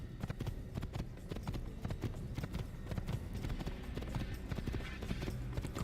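Continuous clip-clopping of a galloping horse in Assassin's Creed, dense rapid hoof strikes up close and fairly loud, with a steady bed of outdoor game ambience beneath.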